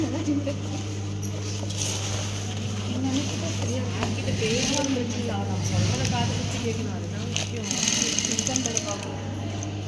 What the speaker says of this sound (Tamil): ஒன்று வந்து இந்த சைடு வச்சு ஸ்டிச் பண்ணிட்டீங்கன்னா இன்னொன்று வந்து இங்கே வச்சு ஸ்டிச் பண்ணணும்